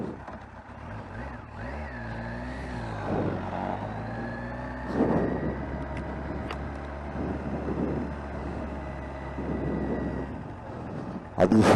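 Kawasaki ZZR 1100 motorcycle, a restored blue "D" model, idling and pulling away on a ride, with a steady low engine drone and rising revs over several seconds, fairly close, ending in a louder burst.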